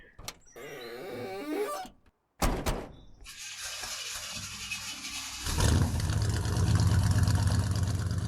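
An Oldsmobile car: a brief voice and a door slam come first, then the engine starts with a loud, steady running roar that swells deeper and fuller toward the end.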